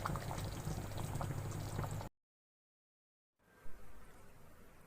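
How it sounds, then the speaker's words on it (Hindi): Water at a rolling boil in a pot for a seviyan vermicelli dessert, a dense bubbling hiss that cuts off abruptly into silence, then returns as a much quieter simmer. "अब बॉयल आ चुका है।"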